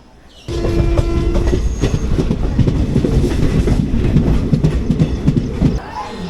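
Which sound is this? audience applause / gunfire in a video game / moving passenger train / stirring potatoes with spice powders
moving passenger train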